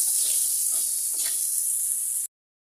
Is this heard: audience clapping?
no